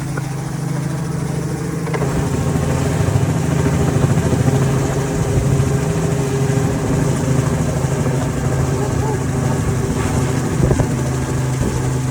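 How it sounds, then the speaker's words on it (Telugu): A helicopter overhead adds a steady, loud engine drone and rotor rumble that continues throughout, blended with motorcycle road noise on a motovlogging ride. "ஹெலிகாப்டர் மேலே தான் இருக்குது"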